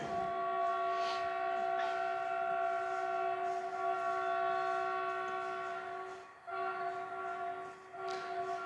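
A passing train rumbles steadily close by, its sustained horn tones ringing through most of the stretch, with a brief dip in loudness before the noise resumes.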